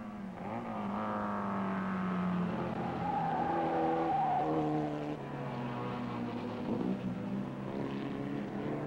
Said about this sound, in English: Into Moss Corner, Gregory on the inside of Hall.